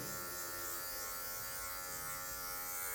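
An electric hair clipper buzzing steadily while the tip of the blade works a dark-toned fade haircut, a close, constant whine with no talking.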